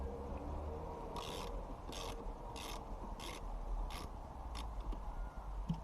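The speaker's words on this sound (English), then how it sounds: "grab your 10mm ratchet socket and undo the negative battery terminal" A 10mm ratchet socket works loose the negative battery terminal in the boot of a BMW Z4 E89, giving a string of about eight quick, fairly close metallic ratchet clicks over a low background rumble.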